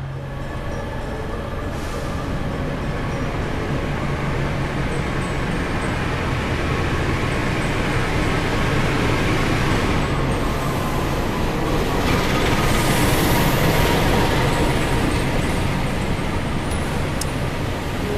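A Pangandaran passenger train rolls along in Indonesia, a continuous loud rumble of wheels on rails heard from inside a carriage, steady throughout with faint rattles and a brief hiss near the end.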